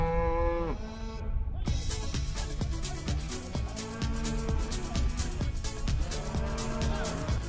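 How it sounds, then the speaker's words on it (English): A herd of about twenty cattle crossing a path laid with cables, with loud overlapping moos and bellows close by, continuous throughout, with other movement and noise underneath. "We just had 20 cows walk across the path of where our cables are."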